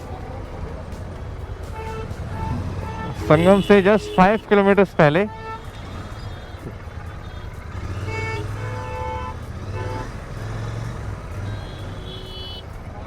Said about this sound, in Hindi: इसे कहते हैं ट्रैफिक।